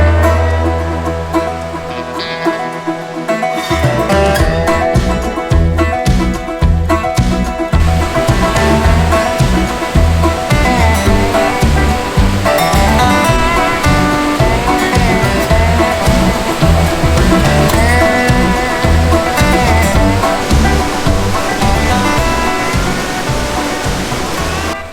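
Waterfall on Middle Prong Trail in the Great Smoky Mountains on a summer hike, steady loud rushing water that continues throughout, with music playing over it for most of the clip.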